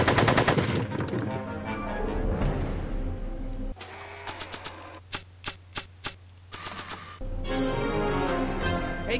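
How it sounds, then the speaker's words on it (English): Gunfire in the Back to the Future video game, a rapid burst of shots at the start, then a run of sharp separate bangs spaced about half a second apart, followed by more dense clatter, all loud with no speech. "Are you shooting at me? Are you shooting?"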